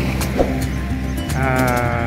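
Goats bleating at a goat trading day in Malasiqui, Pangasinan livestock market, with several overlapping bleats over a steady crowd murmur, fairly close.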